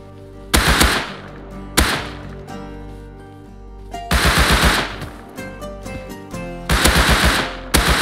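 Loud bursts of automatic gunfire in the survival game Rust, several rapid volleys separated by short pauses, crisp and close with single cracking shots between them.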